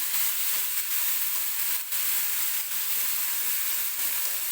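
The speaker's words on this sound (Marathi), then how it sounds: "तेलात हिरवी मिरची आपल्याला भाजून घ्यायची आहे" Green chillies frying in oil for bread pakoda, a steady close broadband sizzle with brief dips, continuous and alone.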